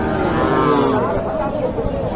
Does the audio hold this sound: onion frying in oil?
no